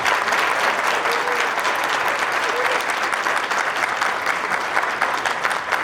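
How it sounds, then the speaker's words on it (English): Steady, dense applause from a large graduation ceremony audience fills the whole stretch, loud and even, with a faint murmur of voices mixed in. "Please give them a round of applause."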